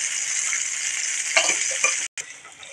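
Tamarind water with turmeric bubbles and sizzles in a pan for tamarind rice, a steady close hiss with a few brief stirring clatters and a short dropout near the end.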